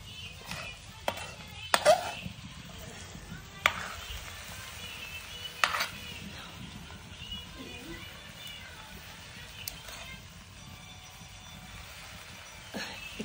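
Beef frying in oil in a pan for a raw jackfruit curry, stirred with a utensil: sharp scraping clacks against the pan over a soft, steady sizzle, with occasional voices nearby.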